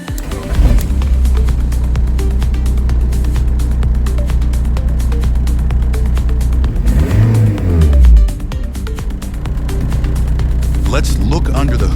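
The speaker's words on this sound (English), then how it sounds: "Let's see him start the engine." A 1999 VW Caddy with a 1.9 SDI naturally aspirated diesel engine runs loud and steady, then swells in one rev rise and fall near the end, with people talking over it.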